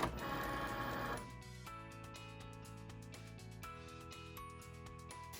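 A Cricut cutting machine works through material for an Easter egg craft, giving a steady mechanical whir with sustained motor tones and faint rhythmic ticking, louder in the first second and then settling to an even drone.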